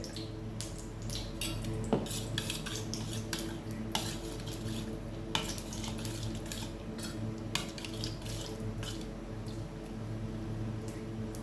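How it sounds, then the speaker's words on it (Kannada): A spoon scrapes and clinks steadily in a bowl while ground chutney powder is mixed into Betageri chutney, with a few sharper taps standing out against a low, constant room hum; no one speaks. "ನಾನು ಈ ಮಿಕ್ಸಿ ಮಾಡಿಟ್ಟಿರೋ ಪುಡಿನ ಇದಕ್ಕೆ ಸೇರಿಸ್ಕೊಂಡು ಕಲಿಸೋದು ಅಷ್ಟೇ"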